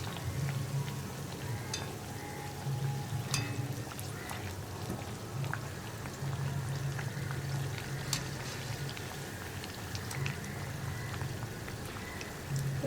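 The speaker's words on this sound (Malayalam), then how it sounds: "ലോ ഫ്ലെയിമിൽ വെച്ച് ഫ്രൈ ചെയ്യുക." Bread slices fry gently on low flame in a pan for an egg roll snack, giving a soft, continuous crackling hiss with scattered pops, moderately close and unbroken by speech.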